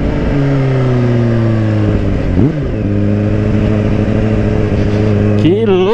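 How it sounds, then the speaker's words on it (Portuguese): A Kawasaki Ninja H2 supercharged motorcycle engine idles and revs loudly and close, its steady drone rising and falling with throttle blips and a high whine layered over the engine note. "Que louco o barulho da turbina."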